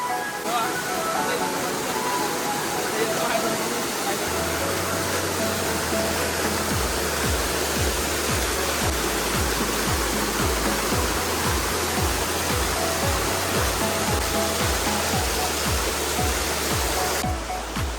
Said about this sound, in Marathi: आपण वॉटरफॉलचं पाणी वाहतं म्हणून रिस्की हा पॅच